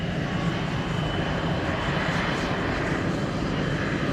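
An F/A-18C Hornet jet comes in to land at an airshow, its engines giving a loud, steady roar that holds throughout with no break.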